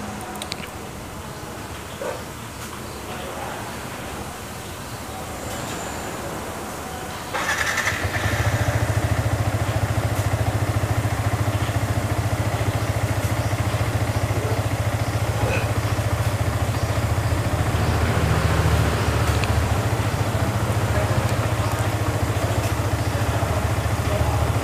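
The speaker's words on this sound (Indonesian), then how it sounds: "sekarang kita coba hidupkan dulu motornya" Yamaha R15 motorcycle engine starting and then idling, a quiet stretch before a sudden start, followed by a steady, close, low idle that holds to the end, with a dog barking faintly early on.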